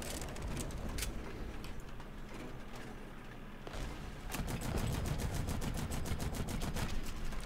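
Rapid automatic gunfire from a Flakpanzer 38 anti-aircraft gun in the War Thunder combat game crackles in dense bursts amid a noisy battle din, with the fire growing louder and more regular in the second half.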